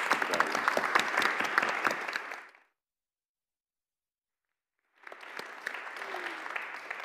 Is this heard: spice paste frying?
no